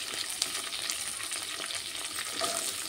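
Green chillies and carrots fry in hot oil in a pan, giving a steady, soft hiss and sizzle with faint crackles throughout, close but quiet.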